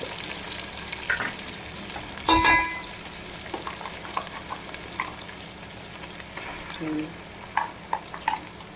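Masala sizzles in a pan for boti curry, a quiet steady fry with scattered crackles and a few spoon-against-pan clatters, one louder clank early on.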